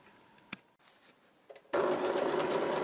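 A domestic sewing machine with a previously adjusted needle bar starts stitching after a few faint clicks, then runs in a steady, loud, close mechanical whir.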